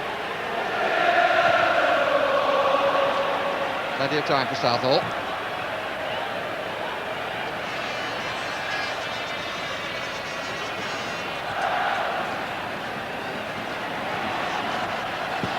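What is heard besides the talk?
football crowd cheering the Wales team on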